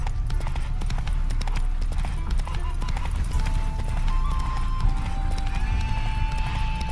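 In The Witcher 3, a horse's hooves clip-clop steadily and it whinnies, sounding close, with game music and voices in the background.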